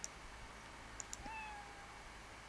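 A faint cat meow sound effect from a Scratch animation rises once in a short, thin cry midway through, after a few soft clicks, quiet and alone with no talking.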